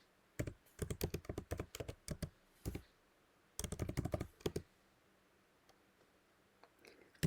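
Computer keyboard typing while CSS code is entered: quick bursts of close, crisp key clicks in uneven runs, pausing briefly between words, with no talking.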